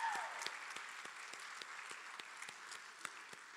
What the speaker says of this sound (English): Can we give Boomer a round of applause?